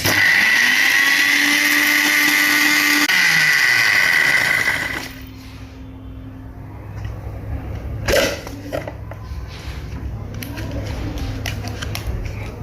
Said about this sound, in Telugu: మిక్సీ సౌండ్ మనం విందాం